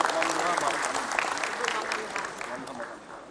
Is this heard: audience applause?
yes